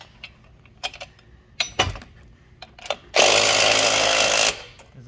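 A power drill drives screws into an ARCYLON assembly: a few short clicks and taps, then one loud, close, steady whir lasting just over a second before it stops.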